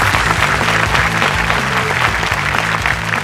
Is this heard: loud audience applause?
yes